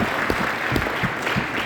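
Steady audience applause at an MLM training seminar, dense continuous clapping at moderate volume with no voices over it.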